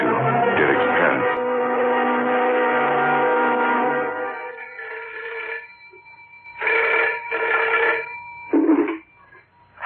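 An old-fashioned telephone bell rings in a vintage radio drama, one long continuous ring followed by several shorter broken rings with gaps, clear and prominent with no talking.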